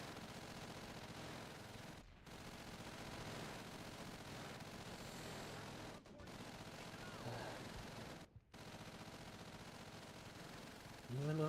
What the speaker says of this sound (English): Even over the gunfire, I can still hear him yelling at me.